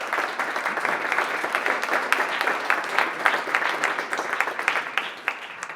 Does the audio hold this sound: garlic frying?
no